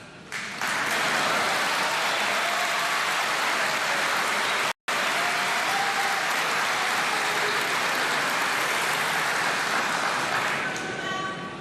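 Loud, sustained audience applause during a presidential speech by Javier Milei fills the space for over ten seconds, a dense roar of clapping broken by one brief silent gap.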